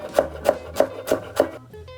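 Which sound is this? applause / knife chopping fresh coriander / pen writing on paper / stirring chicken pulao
knife chopping fresh coriander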